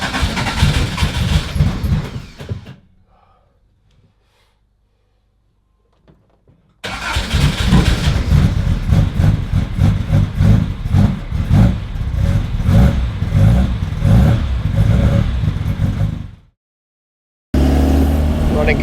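A misfiring car nicknamed Fred cranks and fires into a rough idle, falls silent, then restarts and settles into a steady close, loud idle with small throttle blips, cut off briefly before running again.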